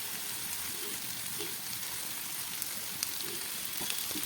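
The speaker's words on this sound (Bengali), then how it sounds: "এবার আমি এই চিকেনের পিসগুলো এর মধ্যে দিয়ে দেবো।" Chicken pieces frying in oil with half-fried spices give a steady, even hiss and crackle of sizzling that runs without a break at moderate loudness, with no talk.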